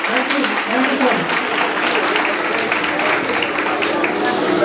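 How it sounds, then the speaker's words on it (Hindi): A church congregation applauds a pastor, dense steady clapping filling the whole stretch with crowd voices mixed in, at an even, sustained level throughout. "Put your hands together for him."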